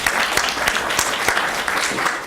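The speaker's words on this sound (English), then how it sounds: "Let's applaud right now for these guys because they're so good." Audience applause in a lecture hall at a law event, a steady burst of many hands clapping at close range, continuous for a couple of seconds with no speech over it.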